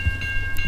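Canadian National freight locomotives passing close by, a brief burst of rumbling rail noise with sharp clanks and a steady high tonal whine from the train.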